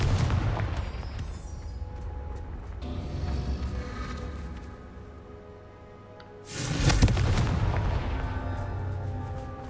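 Confringo spell blasts in the video game Hogwarts Legacy, rumbling booms that swell and fade, with a sharp loud burst about two-thirds through, over a steady game soundscape.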